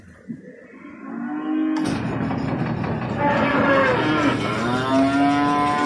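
Cattle moo repeatedly at morning feeding, long drawn-out calls overlapping, over a loud mechanical hum from feed equipment that starts suddenly partway through.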